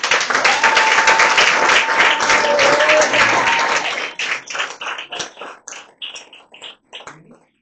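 Church congregation at a Sunday service applauding Jesus: loud dense clapping from a crowd that thins into scattered, uneven claps before fading out.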